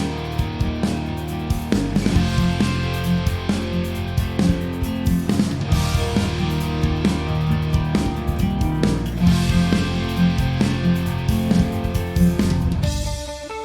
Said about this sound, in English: these acoustics got a bit of room on them, a bit of chorus on them to make them wider